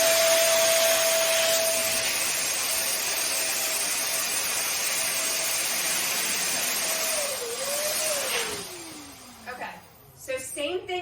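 An electric balloon inflator motor runs with a steady loud whirring hum for several seconds while balloons for a garland are filled, then the pitch drops and the sound turns choppy as it winds down.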